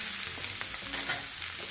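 Chicken sausages sizzle loudly as they brown in a hot pan, a dense steady crackle and hiss filling the moment with no talking.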